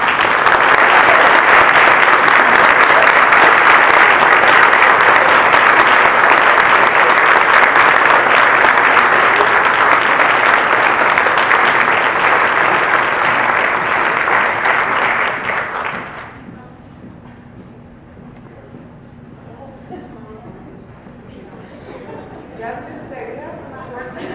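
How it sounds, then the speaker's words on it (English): Loud, sustained audience applause at a 2014 student employee of the year award ceremony, a dense steady clapping that runs for about sixteen seconds before cutting off abruptly to quiet room noise. "Let's give them all a big round of applause."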